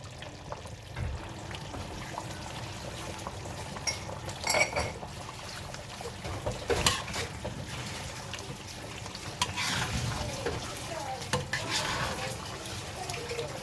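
Homemade chicken curry cooking in a pan, with a low continuous sizzle and bubbling joined by occasional clinks of a utensil against the pan, close and fairly quiet.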